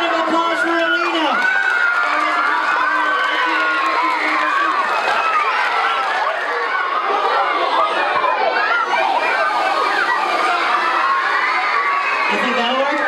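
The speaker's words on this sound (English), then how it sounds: "Round of applause for Alina." A school audience of children applauding and cheering at a Mad Science presentation, loud and continuous shouts, whoops and clapping that fill the room from start to finish.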